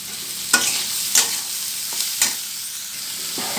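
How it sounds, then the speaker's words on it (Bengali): Spices, slit green chillies and vegetables frying in a pan for sabu khichuri, a steady hiss of sizzling oil broken by a few sharp scrapes and clacks of a spatula stirring, close and alone with no voices. "এবার মশলাটা আরও 2 মিনিট কিন্তু সবজিটার সাথে ভেজে নেব"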